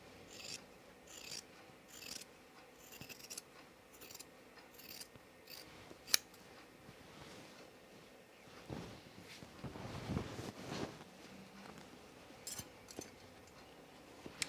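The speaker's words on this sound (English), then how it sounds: "I'm just trimming this" Scissors trimming fabric for a sewn dress, a faint close run of quick rhythmic snips followed by softer rubbing and handling of the cloth.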